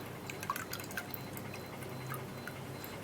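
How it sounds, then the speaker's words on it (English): Sieved orange juice drips in quick, irregular small drops, faint and close, with a light trickling liquid texture and no talk. "what I'll do is to sieve out the orange juice"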